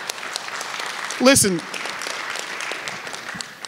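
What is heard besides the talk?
audience applause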